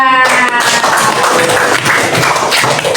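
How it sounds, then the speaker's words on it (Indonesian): Children in a classroom clap for a classmate, a brief loud burst of dense, mixed clapping lasting a few seconds. "Oke, tepuk tangan untuk Mbak Mirsa."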